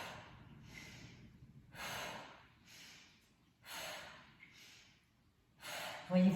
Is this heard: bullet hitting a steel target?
no